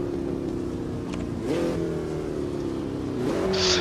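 Simulated race car engine in a sim racing game, sliding through a drift on a circuit: a steady droning engine note with two pitch shifts as revs change, continuous and close, with no talk.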